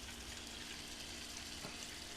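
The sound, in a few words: water flowing through PC water-cooling radiator loop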